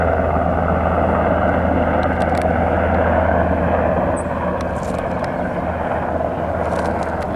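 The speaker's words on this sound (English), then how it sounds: "Black Hawk helicopter." A Black Hawk helicopter flies a loop nearby, its continuous low rotor drone and engine whine holding steady and loud, easing slightly toward the end.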